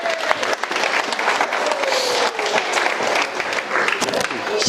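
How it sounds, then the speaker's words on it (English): Wedding guests at a reception applaud the newlyweds, with a crowd clapping steadily throughout while scattered voices and cheers rise over the clapping. "Everyone clap for that."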